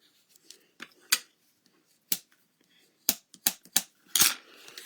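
Paper for a Halloween treat box is folded and burnished, giving a series of sharp, close scraping and crinkling strokes in irregular bursts, with quiet gaps between them.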